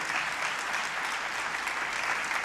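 An audience at a forum claps in a dense, even round of applause, steady and fairly loud throughout the short stretch without voices standing out.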